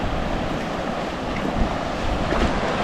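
Sea surf washes steadily onto a shore, a dense, loud, unbroken rush of water mixed with wind buffeting the microphone, no voices present.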